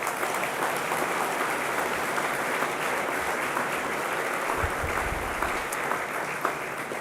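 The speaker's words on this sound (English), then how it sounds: "Can I just give a round of applause to those in the primary sector that saw us through?" Applause for primary sector workers at a national sustainability showcase, a steady, even wash of many hands clapping that holds at one level for the whole stretch without voices over it.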